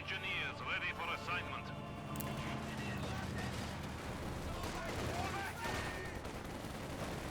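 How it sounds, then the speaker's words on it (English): Combat engineers firing rifles in a Company of Heroes 2 battle: scattered shots and bursts of small-arms fire, fairly distant, mixed with other battlefield noise beneath steady commentary. "Combat Engineers still firing against them."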